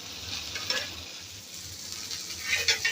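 Fish fries in a pan with a continuous sizzle of hot oil and occasional soft scrapes and clinks of a utensil, close and moderately loud.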